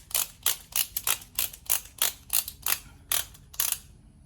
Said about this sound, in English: So I have my torque wrench here. I'm going to unlock it.